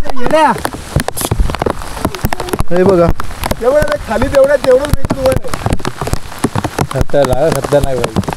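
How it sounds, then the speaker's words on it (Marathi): Heavy rain pours steadily at Sudhagad hill fort, a dense patter on surfaces heard under a man's close, continuous talk. "पाऊस खूप चालू आहे जोरात"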